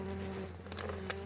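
Honey bees buzz in the hive as they are dumped in during a February check, a short continuous hum with a faint patter and one small tap near the end.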